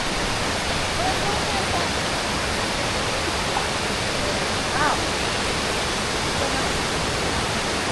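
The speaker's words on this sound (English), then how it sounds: "we're fast approaching the waterfalls. As you can see, the water is getting faster and faster, and up ahead is a big, big one." A broad, steady roar of rushing water approaching large waterfalls in Croatia, loud and constant, with a voice faintly audible beneath it.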